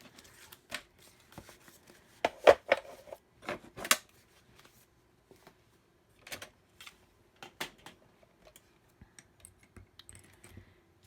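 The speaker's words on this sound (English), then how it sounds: "I started cutting up some of the sentiments that I had stamped already" Scissors snip through stamped paper sentiments for handmade cards, a series of short, sharp, close cuts with uneven spacing and quiet rustling between them.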